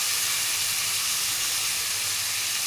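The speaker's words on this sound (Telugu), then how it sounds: "ఉడికించుకున్న వెజిటేబుల్స్ అన్నీ కూడా దీంట్లోకి వేసేసుకుందాము" Cooked vegetables going into a hot pan, a steady loud hiss and sizzle held at the same level throughout with no talking.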